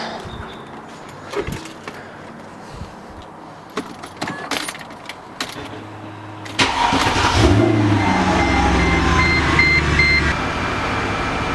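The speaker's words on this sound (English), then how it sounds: "Let's go ahead and flip on the car here, see if we get one of those battery alternator lights." A Mercedes C55 AMG is started with the key after keys jangle and click nearby, cranking briefly before its engine catches and settles into a loud, steady idle.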